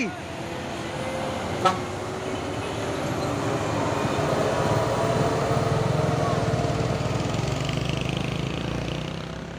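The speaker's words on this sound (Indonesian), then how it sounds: "Truk trailer Hino dan ada juga truk tangki CPO Hino Jember" A Hino trailer truck and a Hino CPO tanker truck roll past on a road in Jember. A broad, steady engine and tyre rumble swells and holds, a brief horn toot sounds early, and voices are faintly audible.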